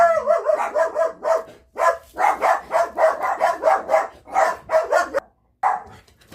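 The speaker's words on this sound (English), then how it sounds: "they're still wanting to bark" Small pet dogs bark in rapid, repeated bursts, several yaps in quick succession with a couple of short pauses, loud and close with no talking over them.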